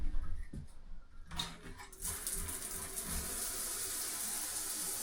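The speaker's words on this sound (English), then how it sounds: "we'll just go ahead and turn the shower on." A shower is switched on and runs with weak water pressure, a thin steady hiss of water that starts after a few knocks and handling noises and continues evenly at moderate volume.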